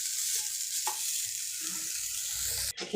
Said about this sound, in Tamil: இந்த வெங்காயம் இதோட கொஞ்சம் வதங்குது